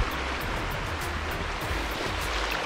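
Surf washes steadily onto the beach at Teluk Sumbang, a continuous, even hiss of breaking water with no pauses and no voices.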